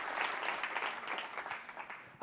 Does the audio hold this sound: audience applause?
yes